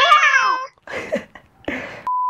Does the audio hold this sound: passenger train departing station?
no